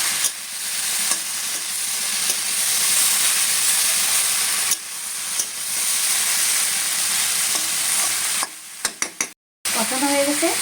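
Taro stolons fry in a pan with turmeric and salt, a loud, steady hissing sizzle broken by periodic stirring scrapes, and a few clatters near the end.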